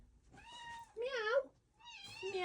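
A cat meows several times, with three clear rising-and-falling calls spaced over a couple of seconds. The calls are close and moderately loud, with no other sound around them.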